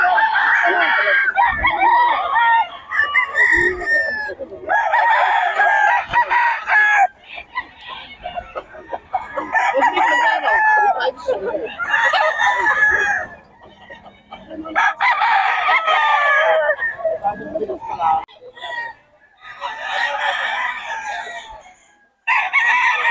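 Gamefowl roosters crow repeatedly at a busy Bocaue market, several loud calls overlapping in bursts over about twenty seconds, with clucking and a voice talking between them.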